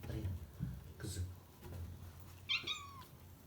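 A cat meows a few times, short and close, with a person talking quietly over and between the calls.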